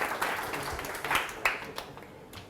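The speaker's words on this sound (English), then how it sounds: "And a round of applause as you come up." A lecture audience gives a volunteer a faint, fairly distant round of applause during a talk on close-up magic, with a few louder claps poking through a soft, even patter.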